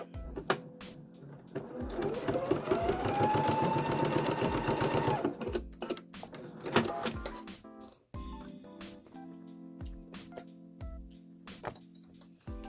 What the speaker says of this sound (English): that's just to hold them in place while we sew the binding on